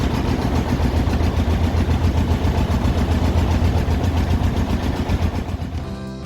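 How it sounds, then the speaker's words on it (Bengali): A boat engine chugs steadily on the Ichamati river, a loud low rumbling drone that holds throughout with no talk over it. "তো আমাদের নৌকা স্টার্ট হয়ে গেছে"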